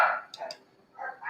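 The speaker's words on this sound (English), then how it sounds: "can you hear my dogs out there?" Dogs bark outdoors in a few short bursts, a couple of quick yips followed by louder barks, moderately distant and muffled, heard alone without talk.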